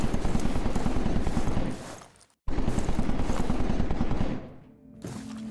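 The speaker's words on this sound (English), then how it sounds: "You hear those gunshots?" Dense bursts of rapid gunfire crackle loudly in two long stretches, separated by a sudden silence, then trail off into quieter background noise.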